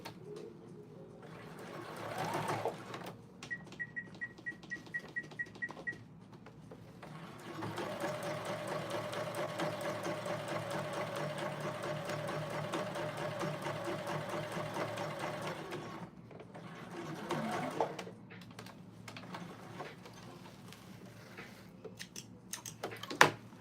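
A serger sewing machine stitching a shirt, running in a long steady whirring burst with shorter starts and stops around it, close and fairly quiet.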